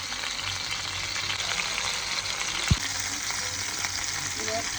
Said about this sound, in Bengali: খোলা কমাই এটা রাইখা দিন সুন্দরভাবে ফ্রাই হচ্ছে